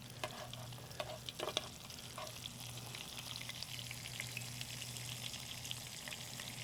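Squid pieces fry in hot oil at 170 degrees for karaage, giving a steady, close crackling sizzle with scattered sharper pops and a faint low hum underneath throughout.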